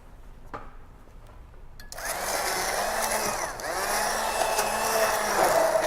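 A hand blender starts abruptly and whirs loudly while blending pizza sauce of peppers, garlic and jalapenos, with its pitch shifting as it churns.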